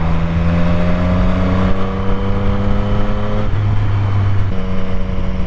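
Motorcycle ride on winding twisty roads, the engine droning loud and steady close by, its pitch climbing and dropping through gear changes.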